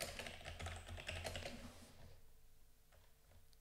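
Rapid clicking of a computer keyboard during a coding lesson, a dense flurry of keystrokes for about two seconds, then a few sparse faint taps, close and quiet with no talk.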